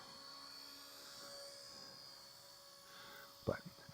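XK K170 UH-60L radio-controlled model helicopter flying outdoors in wind, a steady whining rotor and motor drone that holds through, with a brief louder knock near the end.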